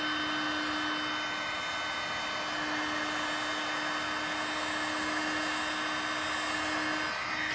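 A heat gun blows steadily over hard plastic to heat out scratches, producing a constant, even whooshing hiss with a faint electrical hum, unbroken and with no voices.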